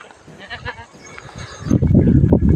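Goats on a goat farm after rain, a few faint bleats early on, then a louder burst of bleating and rustling movement from the herd close by.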